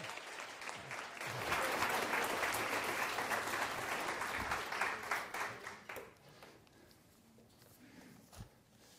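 An audience greets a speaker at a lecture on conscientious objection by health care providers with sustained applause. The clapping builds quickly, holds steady and fairly loud for several seconds, then thins into scattered claps before dying away.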